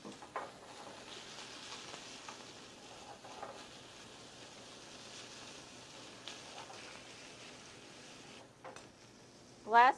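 Black trumpet mushrooms frying in a pan with toasted chestnuts: a soft, steady sizzle and crackle that runs evenly throughout, ending in a brief louder clatter.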